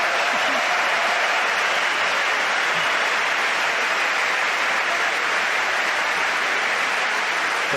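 A crowd at a world championship table tennis match applauds loudly and steadily, a dense, sustained wash of clapping filling the hall for several seconds.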